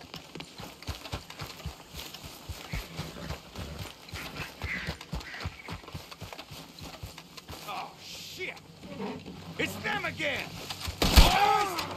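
Horse hooves clip-clopping in the video game Red Dead Redemption 2, a steady rhythmic series of close hoof strikes that slows and fades, followed by voices and a sharp burst near the end.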